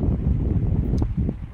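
Outdoor wind buffeting a microphone in a continuous low roar, with a few faint rustles on top and no speech.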